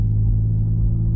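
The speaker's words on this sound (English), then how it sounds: "It's got a nice full deep exhaust note to it." Deep, full exhaust rumble from a Ford Explorer (2.0L or 3.5L, 2011-2017) with an MRT Extreme axle-back system during gentle city driving, heard steadily from inside the cabin in a short burst.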